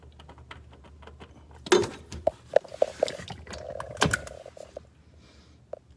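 Under a 2011 Ford Escape, a loosened oil filter is worked free by hand, giving scattered close clicks, light knocks and a couple of louder clunks, with no talking.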